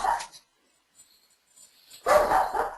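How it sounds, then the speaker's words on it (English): A single dog barks nearby in short loud bursts at the start and end, separated by near silence, with no talking. "That dog barking at your house or mine?"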